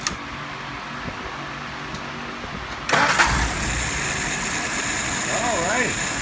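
Engine of someone's WO636S on a warm restart: a faint mechanical hum, then at about three seconds the starter catches and the engine fires immediately into a loud steady run, with brief talking over the idle.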